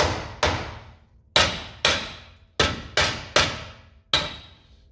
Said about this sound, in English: you can take something like a rubber hammer or dead blow or something like that